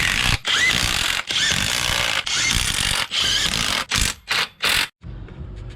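A ratchet or power tool tightens the water pump bolts on a VN–VY V6 Commodore, heard as several close, loud bursts of mechanical whirring, the last few short and choppy, then a quieter tail.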